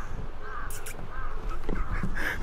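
A crow caws in short bursts during a village outing, moderately loud against steady outdoor background noise, with a few separate calls spread through.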